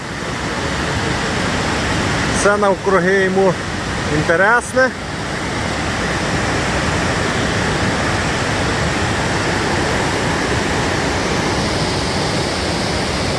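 Steady rushing water in the Carpathian mountains roars throughout, loud and close, with a person speaking briefly over it near the start.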